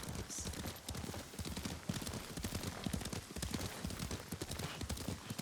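Horse hooves clip-clop in a steady galloping rhythm while riding in the samurai video game Ghost of Tsushima, a continuous close patter of hoofbeats with faint voices mixed underneath.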